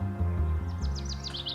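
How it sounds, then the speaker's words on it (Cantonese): Sparrows chirp in short, bright bursts during an early morning outing, the calls quick and scattered over a steady low hum. "呢啲係麻雀仔嘅叫聲"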